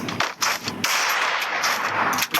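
Rapid bursts of gunfire from the mobile shooter game Free Fire, sharp repeated shots with brief gaps, loud and close, with no talk over them.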